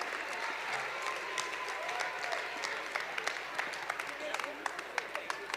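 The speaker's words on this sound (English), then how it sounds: "Let's give them a round of applause." A crowd at the 2022 Arc Gala auction applauds steadily throughout, with scattered sharper claps near the end, moderately loud in a large room.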